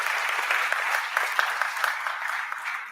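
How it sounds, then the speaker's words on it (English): An audience at a news conference breaks into a round of applause, a moderately loud, even patter of many hands that fades slightly toward the end. "I think that deserves a round of applause."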